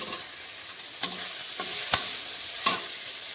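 Chopped tomato and onion paste sizzle steadily in a pan for chicken kosha, with a constant broad frying hiss broken by about four sharp spatula scrapes and clinks as the mixture is stirred close up, with no talking.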